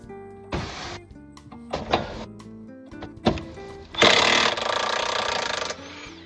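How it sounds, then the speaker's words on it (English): An impact gun works on front suspension arm bolts of a 2011 Honda Insight, firing in several short bursts of rattling hammering with pauses between, then one longer sustained burst, all loud and close. "It's easy to do using impact gun there."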